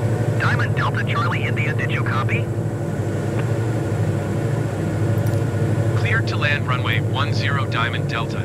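Steady loud engine roar of an aircraft landing on runway 10 at Songshan Airport in Taipei, continuous throughout while a voice talks over it at the start and end.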